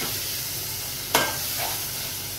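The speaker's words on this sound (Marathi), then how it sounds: "लसूण शिजला ना, मग आपण मसाला टाकूया, हे बघा।" Garlic and masala sizzle in a pan with oil for a dry chicken liver dish. A steady, close frying hiss runs throughout, broken by one sharp clatter near the middle, and no one speaks.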